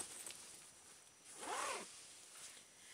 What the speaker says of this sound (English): you don't necessarily have to open up the zippers